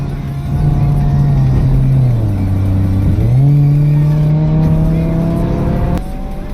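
A loud video game car engine, a Mustang with an automatic transmission, drones steadily, its pitch dipping and then climbing again as gears change, with a faint rattle near the end.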